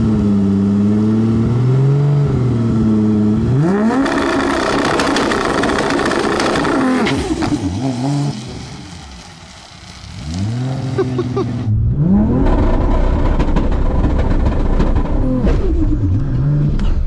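A small car engine revs repeatedly at a drag race, pitch rising and falling through several loud bursts, dipping briefly near idle before revving hard again.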